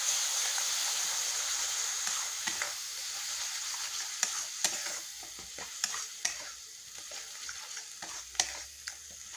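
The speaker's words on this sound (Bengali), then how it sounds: "আমি একটা বড় সাইজের টমেটো পেস্ট করে নিয়েছি, এটা দিচ্ছি। এটা এখন খুব ভালোভাবে কষিয়ে নেব।" Tomato paste and turmeric sautéing in a pan for mushroom masala, a steady close sizzle and hiss broken by irregular spatula scrapes and clicks that grow busier toward the end, without speech.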